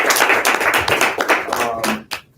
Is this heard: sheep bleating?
no